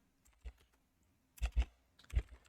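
C++ code is typed on a computer keyboard, a few sparse key clicks followed by small quick clusters of taps, heard close and quiet with no talking.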